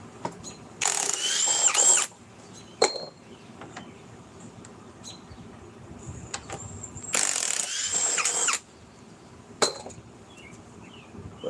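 A power drill bores small holes in wood in two roughly one-second bursts of high whine, separated by quiet gaps and a few sharp clicks and knocks.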